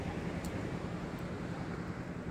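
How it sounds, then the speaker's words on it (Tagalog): Strong ocean surf rolls onto a beach near Dingalan as a steady low roar, with wind buffeting the microphone throughout and no voices. "Super lakas yung alon."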